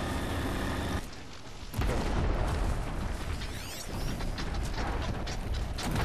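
Robotic machine creatures in the video game Horizon Zero Dawn, heard as dense whirring and clanking mechanical noise with grinding gears, a heavy thud partway through, and continuous loud clatter.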